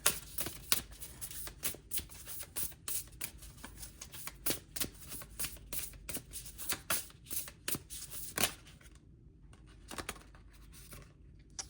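Tarot cards being shuffled by hand in quick, crisp riffling bursts, close and fairly quiet, the rapid flicks trailing off into a few softer taps at the end, with no voices.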